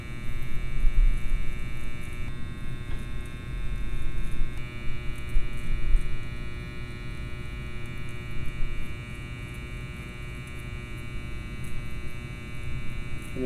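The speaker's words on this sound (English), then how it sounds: "I'm just kind of letting the clipper fall" An electric hair clipper running steadily and close by while a barber lines up a hairline, giving a continuous buzzing hum with slight shifts in loudness as it moves along the edge.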